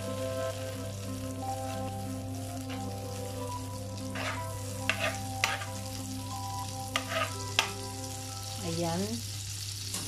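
Butter melting and sizzling in a pan for a beef and bean sprout dish with tofu, a steady soft frying hiss over a low hum, with a few brief clinks and scraping stirs.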